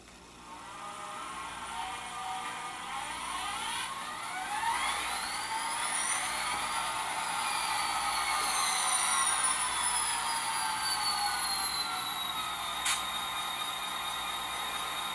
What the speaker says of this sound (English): The prime mover that you are hearing is a 645E.